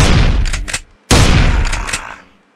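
Two loud bursts of rapid gunfire ring out as zombies are shot in a school zombie-attack horror game, each volley lasting about a second with a brief silent gap between.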